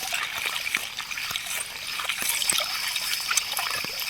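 Water trickles and splashes as a ruby gemstone is rinsed, a steady close dribble with scattered small drips and splatters running throughout.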